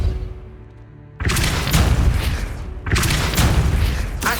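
Depulso spell cast in the video game Hogwarts Legacy, two loud booming blasts with noisy rushing tails, the first after a quiet second and the second about two seconds later, with no speech.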